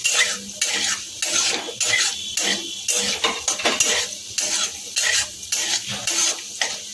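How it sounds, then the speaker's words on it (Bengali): Cashews and raisins fry in darkened oil for paneer fried rice, with a spatula stirring and scraping against the pan in steady repeated strokes over a constant close sizzle, no voices. "হয়ে গেছে কাজু কিশমিশ ভাজা"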